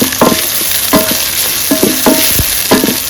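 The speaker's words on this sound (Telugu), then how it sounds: "ఇప్పుడు మనము టమాటాలు, పచ్చిమిరపకాయలు వేసేసుకుందాం. వీటిని కొంచెం మెత్తగా అయ్యే వరకు వేయించుకుందాము." Tomatoes and green chilies frying in a hot pan for boti curry, with a steady sizzle broken by repeated sharp scrapes and clinks of a spoon stirring, close and loud, no voices.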